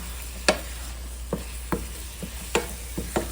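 Eggs cook in a hot skillet on a turned-off stove, a soft steady sizzle under scattered spoon stirs and scrapes against the pan, a few clear taps spread across the stretch.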